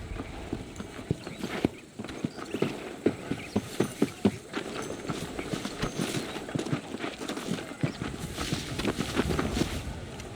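Horse hooves clip-clopping in the video game Red Dead Redemption, a steady trotting rhythm of sharp, close hoof beats on hard ground that runs through the whole stretch with no talk.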